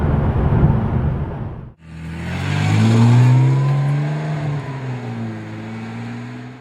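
A Ferrari 612 Scaglietti accelerates hard in second gear after a brief drop in noise. The engine tone climbs and swells loudly, heard from inside the car, with no talking.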